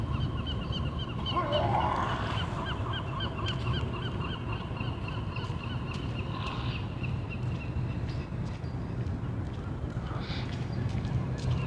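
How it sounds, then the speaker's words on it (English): A big white goose lands nearby and honks, a few close nasal honks early on over steady outdoor background noise, with fainter calls later. "A bird just landed in front of me. Big white bird."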